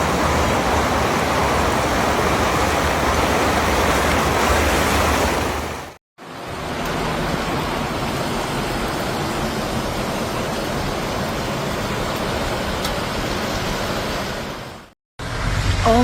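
Rushing floodwater from rivers overflowing in Washington, near the Skagit River, roars as a loud, steady broadband wash that cuts out briefly twice, with no talk over it.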